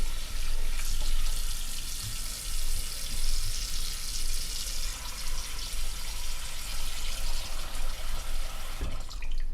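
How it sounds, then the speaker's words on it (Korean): Water pours into a pot to cover pork trotters, a steady rushing splash from a tap that fills the pot and fluctuates gently with no one speaking. "여기에다가 물을 붓고 속 잠길 정도의 물을 부으면 됩니다"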